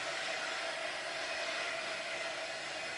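A hair dryer blows steadily and loudly for the whole stretch, a constant broadband airflow whoosh with no pauses and no voices over it.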